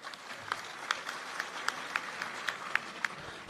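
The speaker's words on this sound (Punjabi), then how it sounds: "ਇਹਨਾਂ ਲਈ ਤਾੜੀਆਂ ਹੋ ਜਾਣ ਇੱਕ ਵਾਰੀ" Crowd at a public gathering applauding the media gathered there, a scattered patter of claps with sharper individual slaps standing out, fairly distant and moderate in level.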